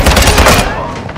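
Rapid bursts of gunfire in a Call of Duty: Modern Warfare II deathmatch, loud and close, with voices talking over the shooting.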